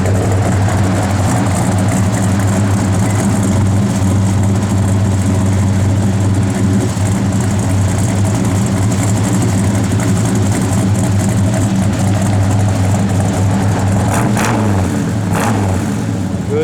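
A 1970 Chevrolet Chevelle SS big block engine idling, a loud, deep, steady rumble with a lumpy low throb held continuously and close throughout.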